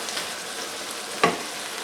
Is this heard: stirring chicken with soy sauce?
yes